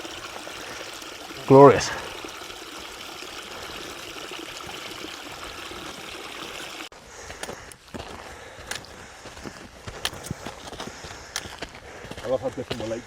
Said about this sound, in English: Lovely fresh water there. Running up this stream.